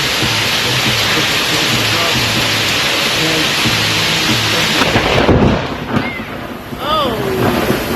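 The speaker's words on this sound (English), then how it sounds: "rain." Heavy rain pours steadily outdoors at a cabin-building site in the woods, and a deep, loud thunder rumble rolls in about halfway through before settling back into the constant downpour.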